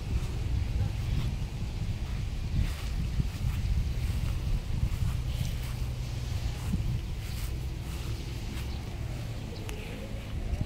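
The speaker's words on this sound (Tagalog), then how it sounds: "Mahangin eh." Steady wind roars and buffets the microphone, a continuous low rumble that never lets up.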